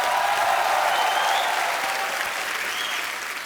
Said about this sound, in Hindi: अक्षय पाजी के लिए जोरदार तालियां हो जाए एक बार।